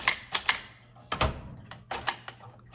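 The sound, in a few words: 1965 Montgomery Ward Signature 440T vintage typewriter typing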